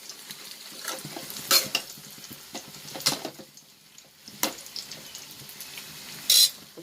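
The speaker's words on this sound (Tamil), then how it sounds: "இந்த பக்கம் முட்டைக்கோஸ் வெந்துட்டு இருக்கு" Shredded cabbage cooks in a pan for cabbage poriyal, with a soft sizzle and occasional sharp metal scrapes and clanks as a spoon stirs it, spaced a second or so apart.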